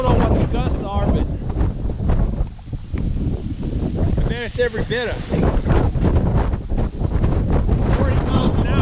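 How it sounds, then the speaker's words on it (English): Strong gusty wind of around 40 miles an hour buffets the microphone in heavy roaring bursts while someone talks over it. "that's where it's so dang windy"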